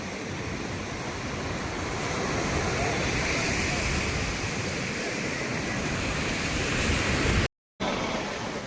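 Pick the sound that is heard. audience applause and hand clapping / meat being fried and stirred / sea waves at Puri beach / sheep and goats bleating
sea waves at Puri beach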